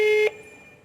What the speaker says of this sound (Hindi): ये यहाँ से रिंग की जाती है